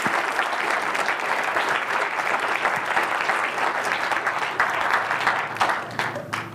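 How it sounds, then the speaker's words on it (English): A lecture audience applauds a presenter, dense steady clapping from many hands that carries on for several seconds before beginning to thin out at the end. "let's give Dr. Turek a round of applause."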